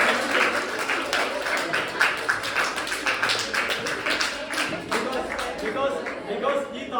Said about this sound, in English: Clap to your science teacher first of all.